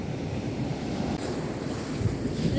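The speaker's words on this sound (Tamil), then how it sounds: "அலை வருது அலை வருது பாருங்க" Sea waves wash continuously onto Nagore beach, a steady close-up rushing surf mixed with buffeting wind against the microphone.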